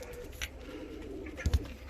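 Fancy and costume pigeons coo softly in a short, low burst, with a slightly louder double coo near the end over faint background noise.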